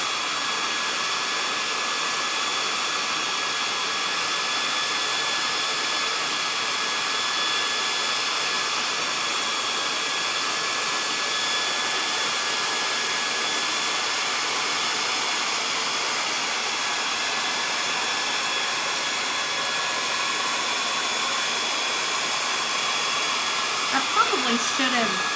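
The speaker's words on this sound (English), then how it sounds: "It's just a cheapo little hair dryer." A small, cheap hair dryer blows continuously and evenly at close range, a steady airy whir that never changes, with a faint click near the end.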